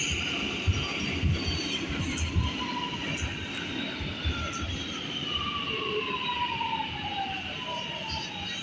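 An R211A G local subway train rides through a tunnel in New York, a steady loud rumble with rising and falling motor whine and wheel squeals throughout.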